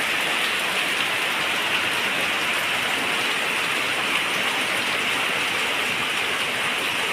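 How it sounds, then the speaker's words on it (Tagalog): Steady heavy rain hisses and patters on a surface without pause, dense and even throughout. "Ay, maulan."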